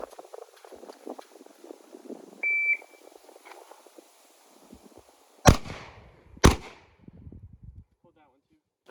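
Two sharp, loud handgun shots ring out at an outdoor shooting range about a second apart, preceded by a short timer beep and faint background talk.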